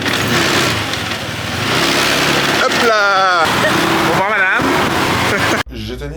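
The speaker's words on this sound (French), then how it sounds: "faire cette partie du voyage en scooter pour apprécier Moorea à sa juste valeur" A 50cc scooter engine runs on Moorea, its mid-pitched buzz rising and falling as it revs close by, with a person talking over it.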